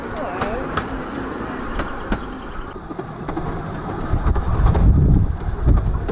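A Ravenglass and Eskdale Railway train runs along its line, with steady rolling rumble, periodic clicks over rail joints and wind buffeting that grows heavier toward the end, while someone talks over it.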